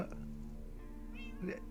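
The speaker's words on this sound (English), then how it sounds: "Bloody cats, bloody cats." Cats meowing nearby, a short opening cry followed by a couple of rising, wavering meows, fairly faint against a low background hum.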